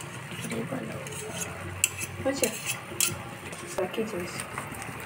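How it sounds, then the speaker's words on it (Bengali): A sweet mixture being stirred in a pan until the water dries off, with soft spoon scrapes and occasional clinks against the pan over a low simmering hiss, while a person talks throughout. "আমাদেরকে ভালো করে নাড়াতে হবে, ভালো করে কিন্তু নাড়াতে হবে যতক্ষণ না জলটা শুকোচ্ছে"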